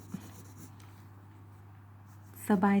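Brown colored pencil shading on paper during a drawing of a face under a hat: faint, soft scratchy strokes, close and quiet, with a voice starting near the end.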